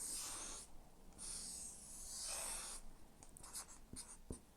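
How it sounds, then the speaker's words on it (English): A pen scratches across paper in long strokes and short dabs while a Venn diagram is drawn, close and quiet with no talking. "And then I'll draw a Venn diagram."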